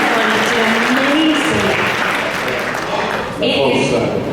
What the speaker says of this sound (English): Can we give them another round of applause for their bravery?